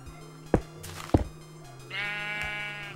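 A sheep in Minecraft gives a clear, close bleat near the end, after a couple of sharp clicks and thuds in a quiet game scene.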